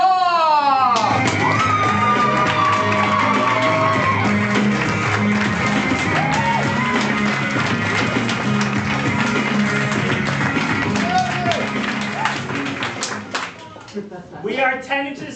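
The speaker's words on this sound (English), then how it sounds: "give a big round of applause" A comedy show crowd at an improv graduation performance gives loud, dense applause mixed with whoops and cheers, sustained at full strength before tapering into scattered claps and a few voices near the end.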